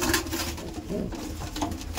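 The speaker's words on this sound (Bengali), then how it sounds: "বাহ, আবলুক পায়রা দেখুন।" Low, continuous cooing from Abluk pigeons in their loft, several birds murmuring together at close range amid soft background rustle, with no voices.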